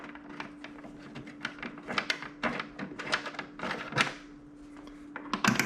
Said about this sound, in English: You can hear them slip after they get unscrewed.